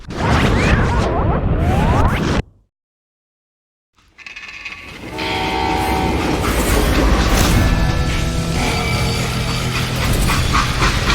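A freight train in the Western shooter Call of Juarez: Gunslinger, loud and close, rumbles and clanks with mechanical rattling, breaks off into a moment of total silence, then resumes as a dense roar of wheels, metal screeching and rolling noise.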